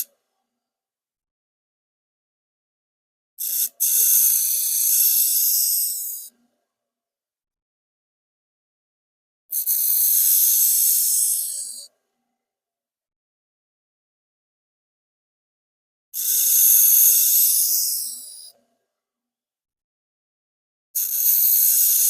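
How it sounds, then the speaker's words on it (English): A broken Shun knife is held against a grinder in four separate bursts of bright, hissing abrasive sound, each lasting two to three seconds, separated by silence. "Now let's sharpen it."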